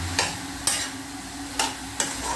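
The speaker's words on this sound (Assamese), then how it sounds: "মই মাছৰ মূৰকেইটা ইয়াতে দি দিছোঁ। দি এইখিনি আৰু মাছৰ মূৰকেইটা এবাৰমান পাৰিলে ভাঙি দিম।" Fish heads breaking up and being stirred in a frying pan for Assamese muri ghonto, a steady soft sizzle of frying broken by four sharp scraping jabs of the spoon, close and alone.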